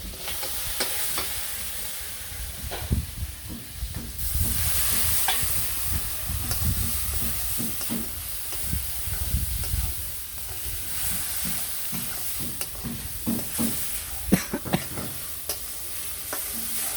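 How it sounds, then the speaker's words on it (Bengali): Potatoes and puti fish frying in oil with salt, turmeric and chili, a steady close sizzle broken by frequent stirring scrapes and clatter, with no talk. "আর আলু দিয়ে পুঁটি মাছ দিয়ে লবণ হলুদ মরিচ দিয়ে দিলাম"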